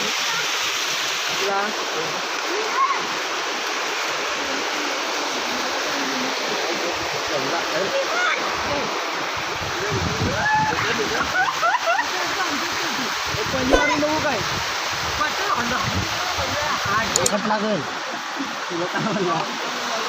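A Konkan village waterfall roars steadily with loud rushing water throughout, while people talk faintly beneath it.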